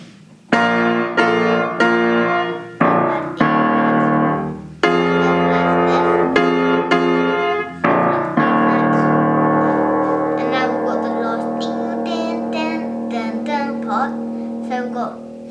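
A piano plays the Garmadon theme from The Lego Ninjago Movie with both hands, with loud repeated chords and a melody over sustained bass that ring out clearly with no talking.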